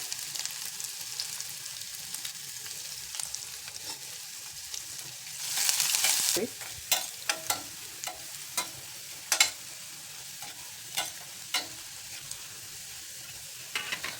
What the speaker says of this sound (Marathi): गरम आहे त्यामध्येच घालायचं आहे बारीक कापलेला दोन चमचे लसूण आलं घालायचं